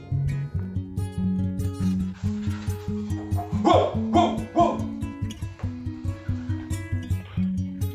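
A voice barks and yips like a dog in a short run of playful imitated barks over bouncy background music.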